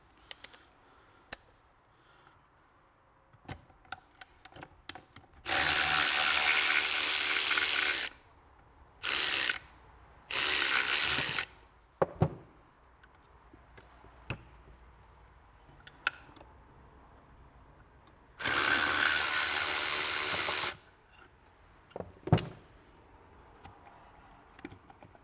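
A ratchet wrench removes a cover on a Ford/Mazda/Volvo clutch system, with scattered ticks and clicks and several loud bursts of whirring tool noise, separated by quiet pauses.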